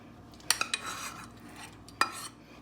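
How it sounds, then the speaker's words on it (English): Metal utensil clinks and scrapes against a pot while stirring stir-fried vegetables with garlic and jalapeno, a few sharp knocks followed by softer rustling and scraping, close and alone. "Go ahead and give that a stir."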